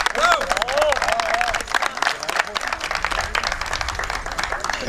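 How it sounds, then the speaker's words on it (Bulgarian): Crowd applauds the president at a municipal football tournament final in Harmanli: a busy, continuous patter of clapping with a voice and a whistle-like tone early on. "Аплодисменти за президента!"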